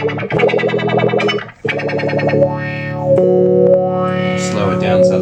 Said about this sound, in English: we can go right up to a sort of Leslie cabinet sort of sound